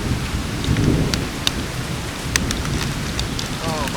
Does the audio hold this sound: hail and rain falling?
yes